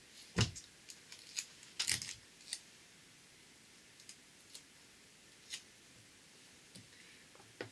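Small scissors cutting tape make small, sharp snipping clicks, scattered and irregular, close and fairly quiet against a faint background hiss.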